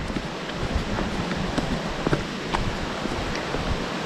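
Constant wind rushing through trees with rustling leaves and occasional buffeting against the microphone, steady and fairly loud throughout.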